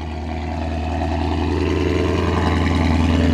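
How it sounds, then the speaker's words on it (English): A Dodge Scat Pack's engine after a cold start, a deep, loud, close exhaust rumble that builds steadily in volume with a throbbing pulse, with no talking over it. "I forgot to give y'all a cold start, but here it goes."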